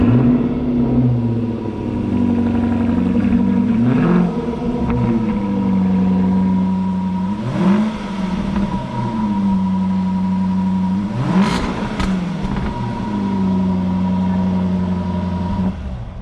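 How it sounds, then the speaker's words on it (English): A Jaguar XKR with a 5.0-litre supercharged engine fires up and settles into a loud, close idle, rising in three sharp revving bursts before dropping back each time. "we're just going to start this car up"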